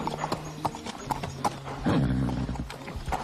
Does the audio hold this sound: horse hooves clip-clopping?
yes